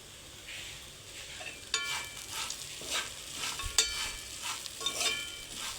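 Flattened rice (poha) stirred and tossed in a pan, a steady soft scraping and faint sizzle with brighter spoon strokes here and there, close up and without talk.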